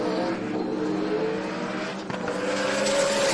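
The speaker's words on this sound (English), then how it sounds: "Lane Stark and Brian Gray, both of them spin the tires." Drag racing pickup trucks roar down the strip at a Sick Summer event while spinning their tires, a loud, continuous high-revving engine drone with wavering pitch and no pauses.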